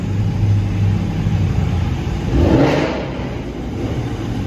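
A car engine revs up with loud exhaust during a late-night city drive, a rising mid-range roar swelling near the middle of the clip over steady road rumble, close and fairly loud with no talking.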